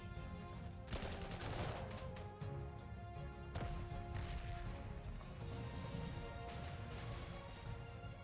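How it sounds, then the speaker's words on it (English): Artillery barrages pound in the World War II strategy game Panzer Corps 2, a dense, continuous rumble of blasts with several sharp louder impacts spread throughout. "Ooh, that's some morale breaking artillery there"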